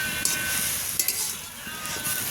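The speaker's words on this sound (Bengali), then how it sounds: "আর শাক ভাজা করছি, বাগানের মূলো শাক" Radish greens from the garden fry in a pan with chopped onion, green chillies and dried red chillies, giving a steady close sizzle and crackle with a few soft stirring scrapes.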